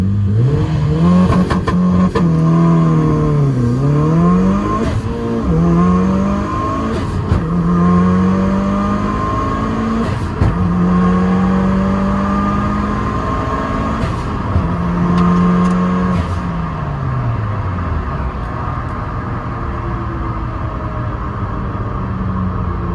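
A loud car engine revs repeatedly during a launch attempt, pitch climbing and falling in surges over a sustained roar, close up, with no voices.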